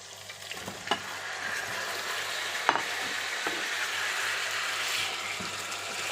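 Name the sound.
tomatoes sautéing in oil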